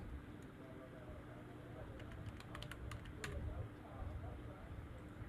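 Keys on a computer keyboard tapped in a quick burst of clicks during a web design session, close and moderately loud over a constant background hum with a faint voice.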